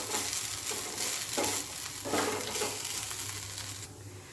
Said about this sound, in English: Just on low flame we have to saute this for 2 to 3 minutes.